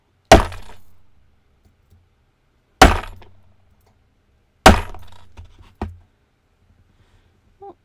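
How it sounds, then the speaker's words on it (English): Three hard hammer strikes on a jewelry bead work table, each a loud sharp metallic clink with a ringing decay, spaced about two seconds apart, followed by a lighter fourth tap; no talking. "And I'm going to give it a hard hammer."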